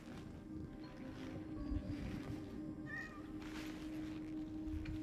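A cat meows briefly in the Cronos: The New Dawn video game, a short, faint call heard once over a steady, dense ambient drone.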